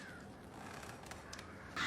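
Crows caw a few times at a distance, faint rough calls standing out over low background noise before a sudden louder sound at the end.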